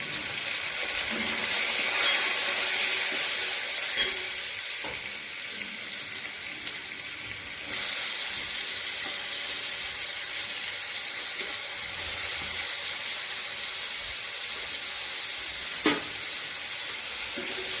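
Onion and crushed garlic frying in a pan while being stirred until browned, a strong continuous sizzle with occasional stirring knocks, loud and close with no voices.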